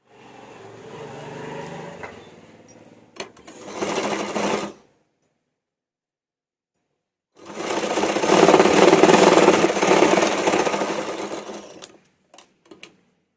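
Sewing machine stitching the collar of a high V-neck blouse, running in two loud, close bursts of rapid needle chatter separated by a few seconds of silence, with faint clicks at the end.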